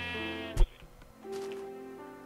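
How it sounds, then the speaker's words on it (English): Sheep bleating in the Minecraft video game, a few short wavering bleats heard up close, with one sharp click at the start and a longer bleat about halfway through, no talking. "Oh, sheep. I found a sheep. It's a black sheep."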